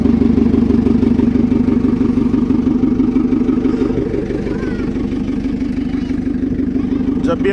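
A JCB engine idles steadily just after a service, with a loud, even mechanical clatter running throughout and a faint brief click near the end.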